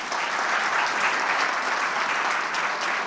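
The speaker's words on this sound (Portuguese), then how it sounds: "Dá uma salva de palmas para ele aí" A congregation applauds during a church celebration service, a dense, even wash of many hands clapping together, sustained at steady volume from start to finish with no pause.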